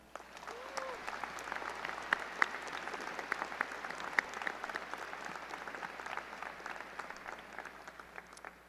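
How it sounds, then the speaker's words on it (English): Steady applause from a large crowd honoring the Lakewood faculty and staff at a class of 2026 graduation ceremony, a dense, continuous patter of many hands heard from a distance, with a few scattered sharper claps and faint voices. "Join me in giving a round of applause to the Lakewood faculty and staff."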